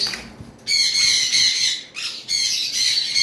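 A cockatiel from a breeding pair of mixed colour mutations lets out loud, shrill squawks up close, in about three harsh bursts separated by short gaps, with no talk.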